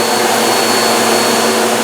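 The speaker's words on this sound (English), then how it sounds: "Are you vacuuming for the first time?" A household vacuum cleaner runs with a loud, steady broadband roar and a faint constant whine, close by, uninterrupted and with no talking.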